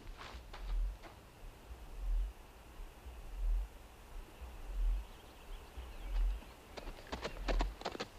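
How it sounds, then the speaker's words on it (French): Horses' hooves thud in a steady, rhythmic clip-clop at moderate distance in a 1956 Western film, with light rustling and faint higher sounds over the beat. "Prenez les chevaux."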